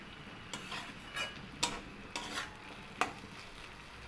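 Ghetkol (giant taro) stems with jackfruit seeds frying in a pan as they dry out, with a handful of sharp spatula scrapes and taps against the pan over a low, quiet sizzle, no voices.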